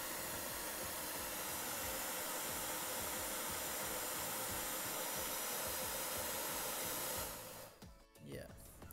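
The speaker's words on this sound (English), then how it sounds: "I turn off the hair dryer." A hair dryer blows with a steady loud whooshing hiss for several seconds, then switches off and winds down, leaving a few faint clicks.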